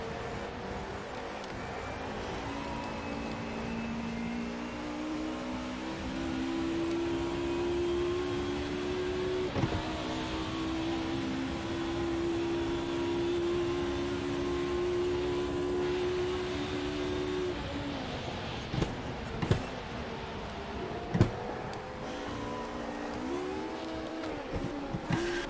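Race car with a broken second gear in Automobilista 2, DTM 1992 at Monza, a continuous loud engine drone holding pitch then dropping and revving unevenly, with a few sharp clunks near the end.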